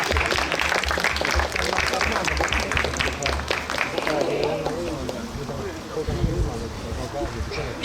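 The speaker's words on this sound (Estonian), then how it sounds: "Okei, teeme ikkagi aplausi ka." A crowd at a hobby school graduation claps in dense, continuous applause close by, with voices mixed in.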